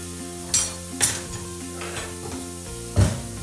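Vegetables sweat down in a pan for a spiced sweet potato, squash and coconut soup, making a soft, continuous sizzle close by, with a few sharp clinks of utensils against the pan and no talking.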